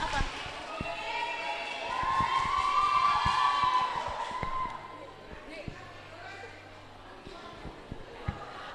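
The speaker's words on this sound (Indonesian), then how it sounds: "Tepuk tangan." A teen Christmas celebration at an HKBP church in Makassar: the audience cheers and shouts with scattered claps, the crowd noise swelling loudly for a few seconds and then dropping to lighter claps and chatter.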